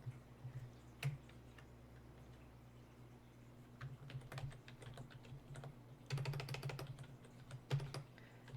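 Typing on a computer keyboard, entering a name and date: quiet, close clicks in short irregular bursts, with a busier flurry of keystrokes toward the end over a low steady hum.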